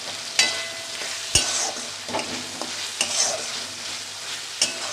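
A tomato goes into a pan of frying ingredients for a Bengali curry of fresh taro and potato, with a steady close sizzle and sharp scraping knocks as the mixture is stirred every second or so.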